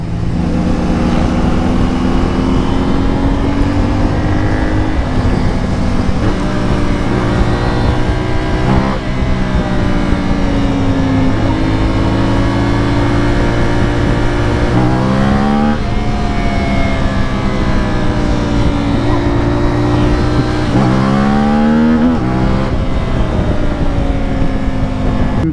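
A CF Moto 450 Ibex motorcycle engine drones loudly and steadily while riding, repeatedly rising in revs and then dropping sharply on gear changes, under constant wind rush.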